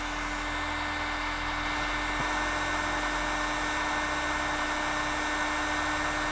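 A heat gun blows hot air onto tubing being bent for a custom water-cooled gaming PC, producing a steady airy hiss and motor hum with a constant tone, close and unbroken, with no voices.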